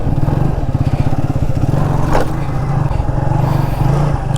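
A motorcycle engine revving during wheelie stunt training in Salem, a loud nearby rasping drone pulsing rapidly at first, then rising and holding steady, with a brief scrape midway and no talking.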